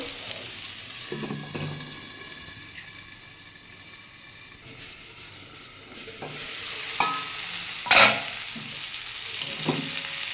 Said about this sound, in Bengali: একটু টমেটো এটাকে আবার ভালো করে একটু ভেজে নেবো